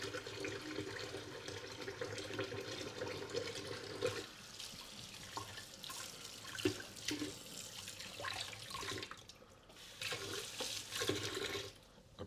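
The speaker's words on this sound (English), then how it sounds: "do a little rinse here before I touch all these sauces and stuff" Tap water runs steadily for a hand rinse in a home kitchen, a continuous hiss that dips and shifts around the middle and again near the end, close and moderately loud with no talking.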